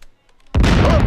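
A sudden loud boom erupts after a brief hush, a dense roaring blast that fills the sound and holds at full strength.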